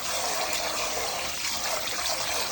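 Eggs rinsed under running water while cooking Thai kai pa lo, a steady close hiss and trickle of water flowing without pause, no voices.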